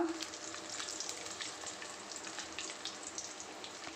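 Mustard seeds, cumin, pepper and dried chili sizzle in hot oil with a soft, continuous crackling hiss and a few small pops, close and steady, with no talk.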